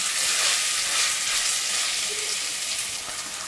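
Ginger and garlic paste frying in a pan, a steady, dense sizzle close up that holds evenly throughout with no voices.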